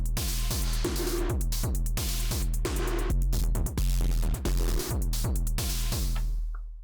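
A Machinedrum pattern hammers rapid-fire kicks alongside booming sub-bass kicks pushed through a clipping compressor, dense, distorted and relentless, ending in a short decay.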